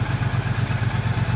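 A Triumph Bonneville T120 motorcycle idles close by at a fuel station kiosk, its engine thumping in a steady, even low pulse with no voices over it.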